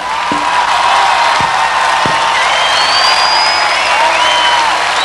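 A big concert crowd claps and cheers loudly, a thick continuous roar of applause with high whistles and shouted whoops rising over it, plus a few thumps near the start.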